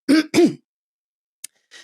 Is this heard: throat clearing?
yes